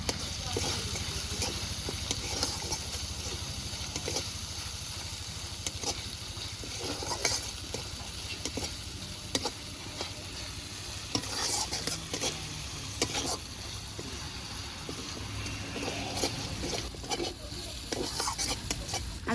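Tomato, green chilli, salt and turmeric masala fries in a pan for a spicy pabda fish dish, giving a continuous close sizzle with regular spatula stirring and scraping throughout, and a voice talking faintly at times.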